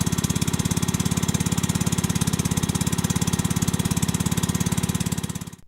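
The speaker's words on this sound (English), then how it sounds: "It is fitted with 25cc 4-stroke 1 HP Honda engine." A small 25cc 4-stroke 1 HP Honda engine runs steadily on a 50-liter Agrimate mobile wheeled sprayer, a loud, even, rapid putter held throughout before cutting off at the very end, with no talking.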